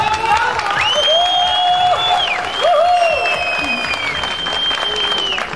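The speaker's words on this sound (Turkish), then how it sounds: "Alkışlar sana." Applause with some cheering from a crowd at a company gala night, loud and continuous, overlaid by prominent sustained tones that sound like music or feedback.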